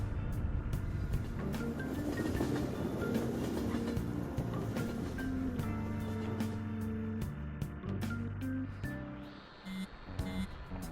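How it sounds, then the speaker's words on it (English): A train pulling into a station in the Persona 5 Royal video game, a steady loud rumble with rail hum and layered tonal whines running throughout, easing slightly toward the end. "Oh, the train is here."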